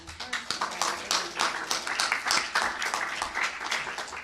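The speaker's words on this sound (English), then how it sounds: "So I want to give Vusi a round of applause" Audience applause at an awards reception, a steady wash of many hands clapping at moderate volume with no talk over it.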